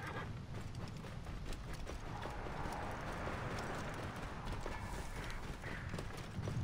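Camel footsteps in the video game Assassin's Creed Origins come as a rapid, continuous clopping of hooves on the ground while riding, layered over steady game ambience at moderate volume.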